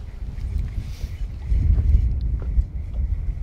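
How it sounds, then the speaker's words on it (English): Side wind buffets the microphone on a fishing boat during perch jigging, a low, steady rumbling roar with gusty surges and no speech. "Got a bit of wind from the side"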